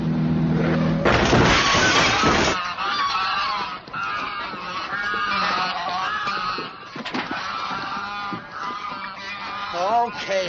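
A flock of geese honks and cackles loudly and continuously, with a brief burst of clattering noise near the start.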